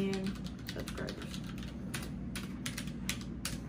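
Mechanical computer keyboard typing, a steady stream of crisp, close key clicks and clacks lasting several seconds with no voice.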